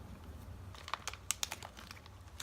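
Crinkly protective plastic packaging around beauty products is torn and rustled open by hand, a quiet run of scattered crackles and sharp crinkles that cluster toward the middle.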